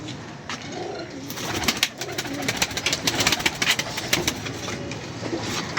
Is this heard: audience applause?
no